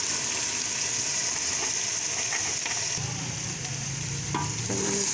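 Bhindi (okra) being stirred through fried masala in a pan at home, a steady close sizzle with scraping and clatter of the spoon against the pan, continuous throughout with no talking.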